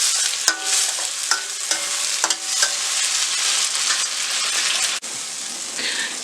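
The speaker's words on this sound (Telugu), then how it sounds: "ఒక ఆనియన్కి 2 టమాటాస్ వేసుకొని ఉడికించుకోవాలి." Tomatoes and onion sizzle steadily in a hot pan, with a few sharp metallic clinks of stirring and no talking.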